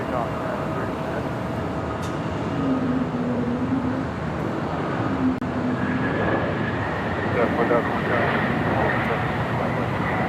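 A United heavy airliner takes off from runway 25 right at LAX, its broad engine roar steady and fairly loud throughout, with a rising whine later on and a faint voice now and then beneath it.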